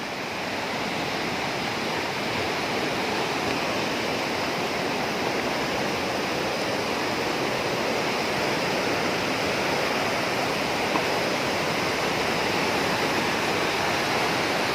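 Loud, steady rushing of flowing water at Lake Sebu falls, South Cotabato, broad and continuous like a fast river or small falls, with no voices.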